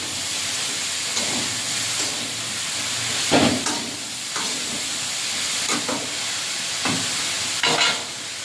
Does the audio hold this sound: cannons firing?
no